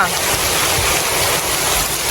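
Heavy rain pours down in Jaffna, a steady dense hiss filling the scene evenly from start to finish, loud and close with no breaks.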